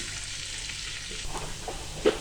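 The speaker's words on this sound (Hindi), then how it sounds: "सबसे पहले इसमें हम प्याज डालेंगे मीडियम साइज़ का" Medium-sized onion fries in oil with a soft, steady sizzle, faint and close, with a few light stirring clinks toward the end.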